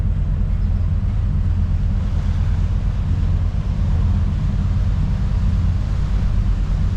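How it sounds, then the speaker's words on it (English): Strong wind buffets a boat moored on the Rhône, a steady low roar and rumble that stays constant and fairly loud throughout, with no voices. "there's a lot of wind blowing"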